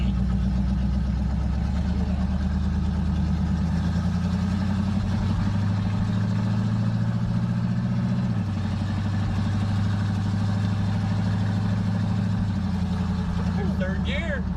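A 1976 Chevrolet C10 squarebody pickup pulls away and works up through its gears, a rough, steady mid-pitched engine drone rising and settling with each shift, heard from inside the cab with a voice talking over it.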